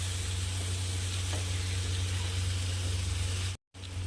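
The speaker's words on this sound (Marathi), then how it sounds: "यामध्ये आता शिमला मिरची ॲड करू छान मिक्स करून घ्यायचा गॅस फास्ट नाही ठेवायचा मीडियम" Capsicum stir-fried over medium heat in a pan for a Maharashtrian shimla mirchi bhaji gives a steady, close broadband sizzle over a low hum, then drops to a brief silence near the end.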